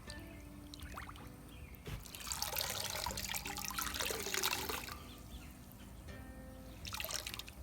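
A light gray knitted wool vest pushed down into a basin of water, giving steady sloshing and trickling that swells in the middle and at the end, close and without talk.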